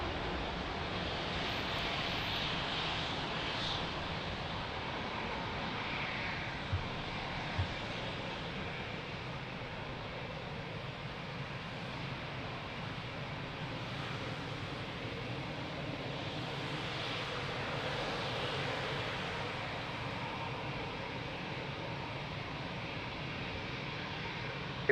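Aircraft engines roaring steadily at Lisbon Airport runway, a broad sustained rumble and whoosh that swells and holds for the whole stretch, heard from a distance with no voices.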